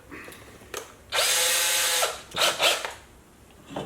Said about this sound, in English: I'm going to switch back to my drill bit.